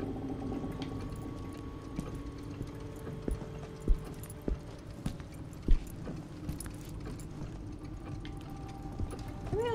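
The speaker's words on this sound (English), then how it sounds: "Somebody else hearing what sounds like footsteps?" Footsteps in the horror video game Song of Horror, a series of faint, irregular soft thuds spread across a quiet ambient background with a low steady hum, no talking.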